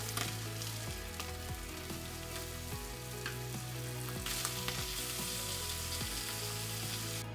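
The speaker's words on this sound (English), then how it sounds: "place your slices of char siu into the pan" Slices of char siu pork sear in a hot oiled pan for Japanese chashu, giving a loud, steady, crackling sizzle throughout, with a soft tonal hum underneath and no talking.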